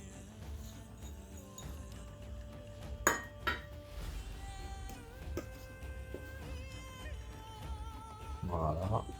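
Spoon scraping and clinking against a pot while sugar is stirred into boiled, thickened milk, with fruit already added, in a home kitchen. Soft metallic clinks and scrapes sound close, with a louder clatter near the end over low background hum.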